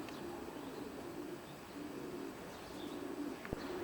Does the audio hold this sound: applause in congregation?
no